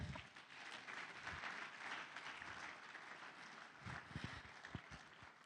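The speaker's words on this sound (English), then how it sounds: "Please, another round of applause." A seated audience at a Nigerian forum on democracy and the free market economy applauds steadily, a continuous wash of clapping with a few louder individual claps near the end and no talking over it.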